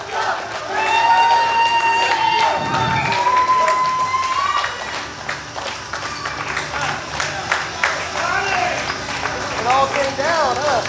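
A wrestling show crowd in Bacliff, Texas, cheering and clapping in a steady, loud roar that fills the whole stretch, with a commentator talking over it throughout.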